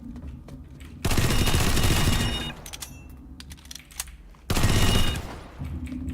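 Full-auto weapon fire from a TR MAX unit in the game PlanetSide 2, with two loud sustained bursts of rapid shots separated by quieter game ambience and scattered distant shots.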